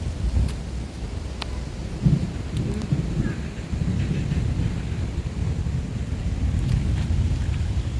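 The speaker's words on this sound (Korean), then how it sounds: "비가 올 준비를 하느라고 천둥 치고 번개는 없지만 제법 천둥이 치고 있습니다" Thunder rumbles low and continuous outdoors before rain, a heavy steady roll with a sharper swell near the two-second mark, heard alone without talk.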